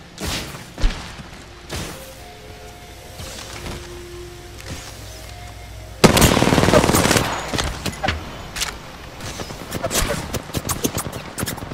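Gunfire in Apex Legends erupts from about six seconds in, a dense loud run of shots and impacts after a quieter stretch of ambient game sounds and brief thumps.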